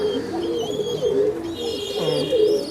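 A fifteen-year-old male giribaj high flyer pigeon coos close by in soft, repeated throaty rolls, with a few higher chirps mixed in.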